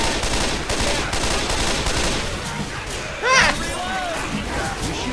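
Rapid gunfire in the zombie shooter Left 4 Dead 2, loud and continuous, with a sharp crash midway, as players shout and talk over the shooting.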